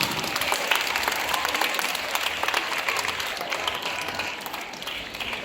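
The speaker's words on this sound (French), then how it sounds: "on doit applaudir les enfants." A crowd at a school event applauds the children, a loud, sustained roar of many hands clapping at once, steady for over five seconds and easing slightly near the end.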